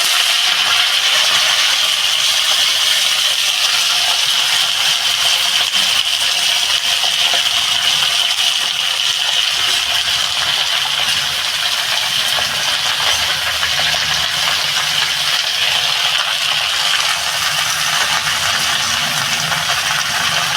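Spinach greens dropped into hot mustard oil tempered with burnt radhuni seeds, giving a steady, loud, close hiss and crackle of frying that holds evenly throughout with no talking.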